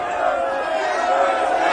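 An angry crowd shouts and roars in a dense, continuous wall of voices, loud and close throughout, as a sound effect in a dramatized audio reading of the Bible.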